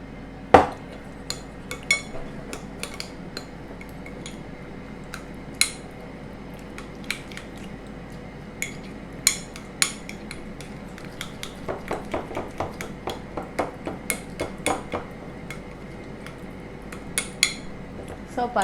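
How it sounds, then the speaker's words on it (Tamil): A utensil stirs sauce with olive oil in a bowl, giving repeated light clinks and scrapes in irregular bursts, close and fairly quiet, with no talking. "அப்படியே அது நல்லா ஃபுல்லாக மிக்ஸ் பண்ணுங்கள்."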